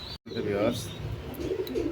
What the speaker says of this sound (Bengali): এই যে আর দুইটা টেডি কবুতর